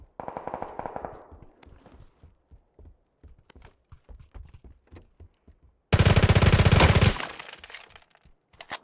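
Gunfire from the video game PUBG: a scattered run of sharp single shots, then a dense, loud burst of automatic fire lasting about a second, with no talking.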